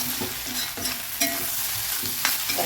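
Vegetables for egg rice sautéing in a pan, a continuous close sizzle broken by regular stirring strokes of a spoon, with no talking.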